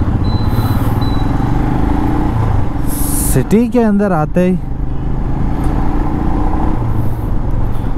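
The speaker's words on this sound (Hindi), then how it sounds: "ट्रैफिक ट्रैफिक ट्रैफिक देखो" Busy city road traffic with motorcycles and cars makes a dense, continuous roar with engines droning close by, while someone speaks briefly in the middle.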